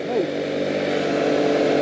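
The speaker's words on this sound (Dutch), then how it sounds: "Dit is wel een lekkere route voor een tweetakt, hè?" A two-stroke Zip scooter drones steadily while riding along a quiet rural route, its buzzing engine note close and continuous throughout.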